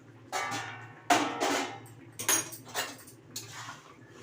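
Metal clattering of a pot lid being lifted to check vegetables simmering for Bengali shukto, a few sharp clanks and scrapes separated by short pauses, close and fairly loud with no talk.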